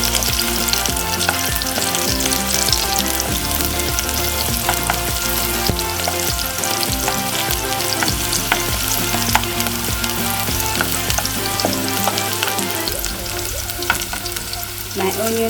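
Onions sizzle steadily in a hot pan while being stirred, a dense, continuous frying hiss with scraping accents, loud and close, with music playing underneath throughout.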